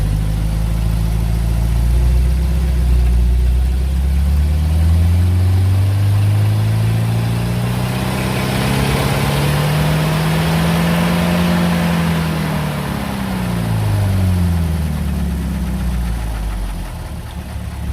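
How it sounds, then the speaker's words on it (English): A classic car with a 6-volt charging system runs its engine near and loud, revving up in a smooth rise around the middle and settling back toward idle, with a steady knocking rumble throughout and no talk. "So I'm going to rev up the car a bit here"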